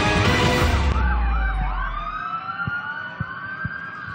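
Fire truck sirens wail loudly as the engines arrive at a fire in Tondo, Manila, with one siren sweeping down in pitch against steady traffic noise and a few sharp knocks near the end.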